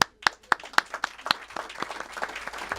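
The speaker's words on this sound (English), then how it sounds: "Tim, would you just raise your hand so we can all applaud you?" Audience applause at a lecture on teaching peace, opening as a few sharp, separate claps and thickening into a steady patter of clapping from a crowd.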